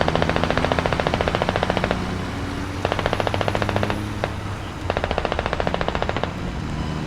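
Automatic gunfire in the video game Squad, loud close bursts of rapid rhythmic shots, three long strings separated by short pauses, with a single louder shot in between.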